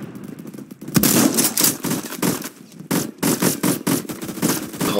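Gunfire in Roblox Phantom Forces: loud, close bursts of rapid automatic shots with short gaps between volleys, and no voices.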